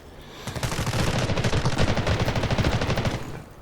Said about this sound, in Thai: ยังยิงกันอยู่เลย ใส่กันยับฮะ